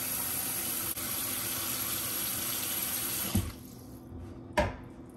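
A faucet runs steadily into a pot holding pigtail, then shuts off, followed by a couple of knocks and thuds in the quieter space.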